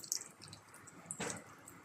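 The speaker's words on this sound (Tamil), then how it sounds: "இது தண்ணியை உள்ளே ஊற்றிடுவோம்." Coconut water is poured from a cracked coconut into rice and jaggery for a festival dish, heard as faint drips and then one brief splashy pour. It is quiet and close, with no voices.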